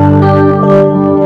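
An electric guitar played through a Yamaha keyboard with a chorus effect rings out as a brief, loud, shimmering sustained chord.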